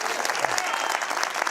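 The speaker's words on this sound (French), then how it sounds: "Je veux des applaudissements là-dessus aussi." A live audience at a Christian preaching event breaks into dense, steady applause, loud and sustained throughout with no break.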